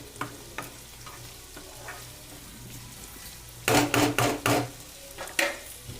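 Beetroot fry in a pan being stirred after turmeric and chilli powder are added, with soft sizzling and a cluster of sharp spoon scrapes and knocks near the end.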